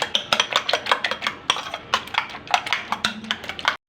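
A utensil whisks eggs seasoned with red chilli in a bowl for anda paratha, giving quick, rhythmic clinking strokes close up that continue steadily and then stop.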